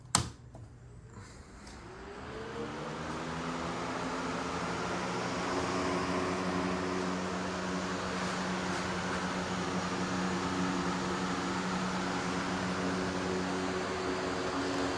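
Lasko 3733 fans spinning up to high in a garage, a click then a rising whir that settles into a steady, even airy drone with faint tonal hum, continuous and moderately loud with no speech.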